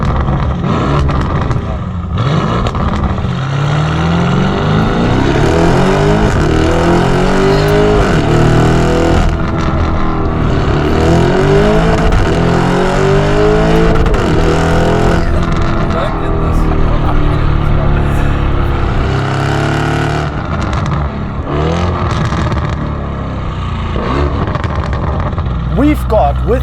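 A Novitec-tuned Lamborghini Urus with 782 horsepower and 1,032 Nm of torque revs hard on an open road, its engine note sweeping up and down in repeated surges beneath steady talking.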